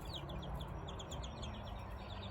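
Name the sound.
young chickens chirping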